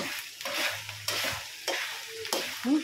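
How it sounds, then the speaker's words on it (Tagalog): Bagoong cooking in coconut milk with sugar is stirred in a pan, giving repeated soft scraping strokes over a gentle sizzle, fairly close and without talk. "Tapos, halu-haluin lang."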